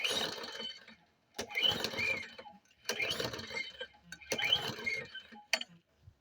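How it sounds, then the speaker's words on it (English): A lawn mower's recoil starter is yanked four times in a row, each pull a rough whirring rattle of the flywheel turning over, with no engine catching between pulls. "All I hear is the recoil engaging the flywheel."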